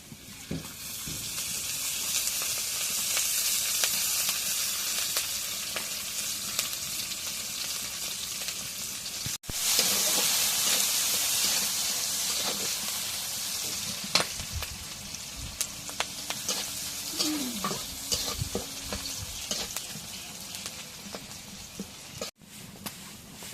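Oil sizzles steadily in a pan while cooking a fish curry of tengra fish with potato and eggplant, a continuous loud frying hiss with occasional crackles and a brief stir near the end.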